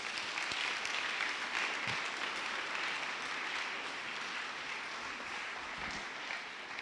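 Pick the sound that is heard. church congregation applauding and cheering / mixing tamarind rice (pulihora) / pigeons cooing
church congregation applauding and cheering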